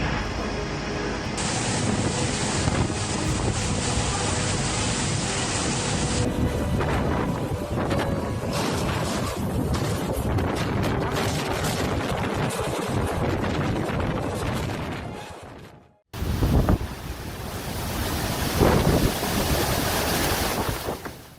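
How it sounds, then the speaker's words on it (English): Strong, continuous wind gusts from Cyclone Fani in Odisha roar and buffet the microphone in a dense, loud wash, cutting out abruptly near the end before resuming. "Strong, continuous gusts of wind have uprooted many large trees, causing them to fall onto the roads"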